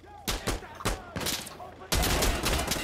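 Bursts of rifle fire crack out in a Sandstorm co-op match, several separate volleys followed by a sustained heavy fusillade, loud and close.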